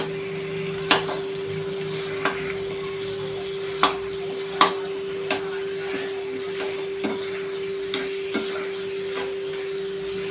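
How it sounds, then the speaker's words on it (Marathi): Khoa roasts in ghee in a pan for a sweet karanji filling, a soft, steady sizzle broken by about ten light scraping clicks of a spatula at irregular intervals. "तुपावरती मस्तपैकी खवा भाजून घ्यायचा आहे"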